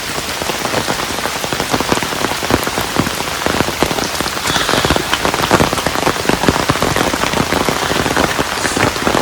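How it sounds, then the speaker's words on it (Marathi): Heavy rain pours steadily and loudly at Tikona Fort near Pune, a dense continuous patter of drops hitting surfaces with no talking. "म्हणजे पाऊस भरपूर चालू झालेला आहे"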